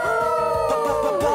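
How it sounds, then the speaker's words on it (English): A cartoon puppy lets out a howl for help, a close, tonal, wavering cry. It rises and dips in pitch over about a second and a half, over a faint musical background. "just howl for help."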